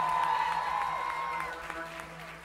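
Audience applause at a live concert, a steady wash of clapping under a lingering sustained tone, gradually fading.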